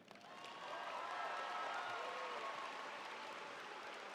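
Audience applause at a high school graduation ceremony, a broad, even wash of clapping from a large crowd that swells quickly and holds steady, heard from a distance in a big hall.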